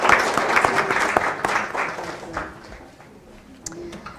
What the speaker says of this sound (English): You can have a virtual round of applause.